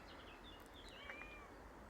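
A cat on a small farm gives one soft, faint meow partway through, nearly lost in steady background hiss.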